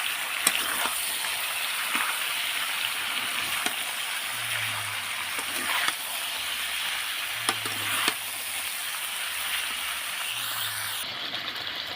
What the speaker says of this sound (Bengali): আমি এবার ভেজে রাখা ফুলকপি আলুগুলো দিয়ে দেব দিয়ে ভালো করে কষে নেব সব মশলাগুলো